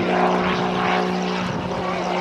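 A propeller aerobatic plane snap-rolls through a triple avalanche during an airshow at the 2007 Vectren Dayton Airshow. Its engine drones steadily loud and fairly close for the full stretch.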